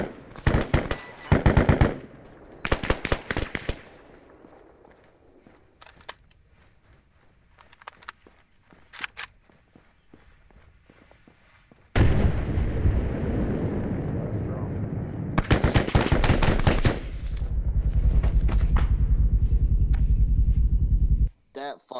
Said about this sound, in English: I don't know where the shots come from.